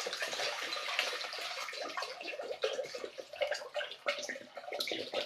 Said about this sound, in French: On va mettre 1 litre d'eau.